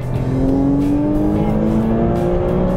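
A sports car engine revs up on a race track with a rising whine climbing steadily in pitch, loud and close, as the car accelerates.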